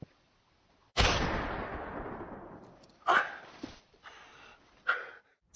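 Gunfire in a tense film standoff as a woman is surrounded by armed henchmen: a loud sharp blast with a long decaying tail, followed by two more shorter, weaker reports spaced a couple of seconds apart, with no talk.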